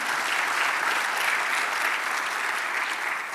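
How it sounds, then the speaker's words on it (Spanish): A church congregation applauding, dense and steady clapping sustained throughout at a lively level, with no talk over it. "Denle un aplauso al Señor."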